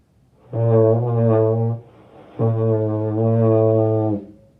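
Two long, low euphonium notes with a buzzy, unfocused tone from poor mouthpiece contact, separated by a short pause, each held steady then stopping.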